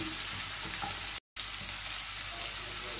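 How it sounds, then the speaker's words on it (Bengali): Chillies sizzle loudly in hot oil as they are stirred in a pan, a thick steady crackle close to the mic, cut off by a short dropout partway through. "লঙ্কাগুলো দিচ্ছি। ভালো করে নেড়ে নিই।"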